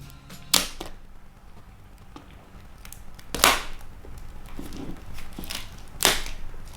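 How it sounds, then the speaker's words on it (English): AirPods Pro packaging being unboxed: three sharp, isolated snaps or pops of cardboard and plastic, close and fairly quiet, spaced a few seconds apart against a faint room hiss, with no talking. "Let's go ahead and unbox the AirPods Pro."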